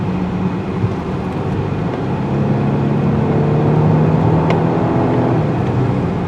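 A 2020 Volvo XC90 T8 hybrid SUV with an 8-speed automatic accelerates, its engine a steady mid-pitched drone that swells gradually and holds strong, heard from inside without talk.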